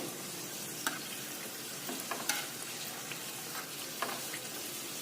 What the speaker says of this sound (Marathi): खालची बाजू आता तळली गेली करंजी आता पलटी करूया